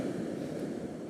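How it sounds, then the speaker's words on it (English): Ocean waves break on a beach as a continuous, dense rushing wash of surf heard at a distance, with no voices. "right now I'm looking at the waves breaking"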